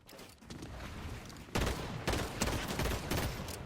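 Pistol gunfire in Fortnite during a competitive match: a burst of rapid shots from about halfway on, loud and dense, layered over busy game noise, with a quieter run of sound before it.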